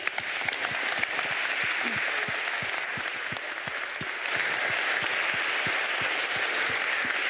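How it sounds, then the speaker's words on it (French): Audience applause after a round-table discussion on climate change adaptation at a conference, dense and steady clapping that holds loud throughout with scattered individual claps standing out near. "On peut applaudir."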